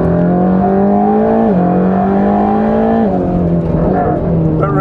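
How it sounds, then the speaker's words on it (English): A Mercedes-AMG GT3 race car drives a racetrack shakedown at moderate speed, its engine droning loud and steady with a few downshifts and a rising rev near the end, recorded from close behind. "Bit of a shakedown test going on in the AMG GT3 in front of me"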